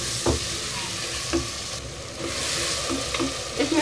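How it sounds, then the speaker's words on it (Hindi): Tomatoes and onions frying in a pan for biryani, a steady close sizzle with intermittent scraping knocks of a spoon stirring. "जब तक टमाटर नहीं गल जाते हम इसको इस तरीके से भूनेंगे।"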